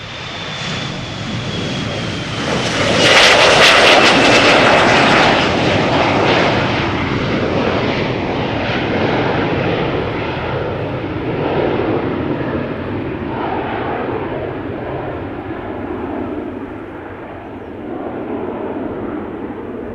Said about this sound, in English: Embraer 175 going to Norwich. KLM flight 1057.